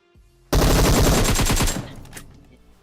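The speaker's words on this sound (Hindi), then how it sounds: "उजी की 100 गोली चलाई यहाँ पे किसी ने।" Uzi fire in PUBG Mobile: one long, loud, rapid automatic burst starts abruptly, runs for over a second, then cuts off and fades with a faint echo.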